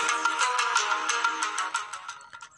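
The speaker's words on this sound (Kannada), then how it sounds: "ಇಲ್ಲಿ ನಿಮಗೆ ಕೇಳಿಸ್ಕೊತಾ ಇರ್ಬೋದು ಅಂದ್ಕೊಂತೀನಿ ಒಂದು BGM" Background music plays from a mobile phone speaker, a bright melodic tune with a steady beat, fairly clear and close, fading slightly at the end.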